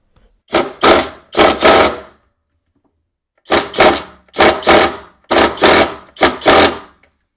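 A cordless drill works at a 7/16 bolt on a Whirlpool Cabrio washer, two short bursts, a pause, then four more rhythmic whirring pulses, loud and close with no talking.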